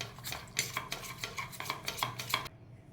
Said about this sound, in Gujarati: આપણે આટલું દહીં લઈશું અને એને મિક્સ કરી લેવાનું.